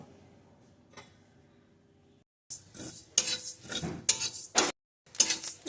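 Rice grains and fennel seeds rattle and scrape in a dry pan, a quiet start then a run of loud, uneven stirring strokes with brief pauses between.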